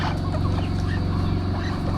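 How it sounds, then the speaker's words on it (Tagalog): Chickens cluck loudly and continuously up close at a fishpond farm, a dense flock chorus with low rhythmic clucks over a steady hum. "At nandito na rin po yung mga manok."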